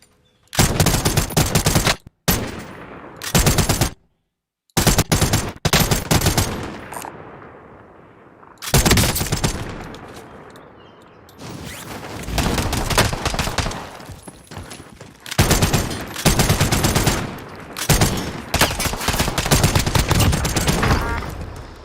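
Loud automatic gunfire in a Warzone gunfight, bursts of rapid shots separated by short silent gaps and quieter stretches, close and harsh throughout.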